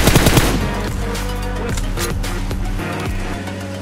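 Rapid bursts of automatic gunfire in a shooting video game, loud and close, with a dense rattling volley at the start followed by scattered shots and game effects for a few seconds, no talking.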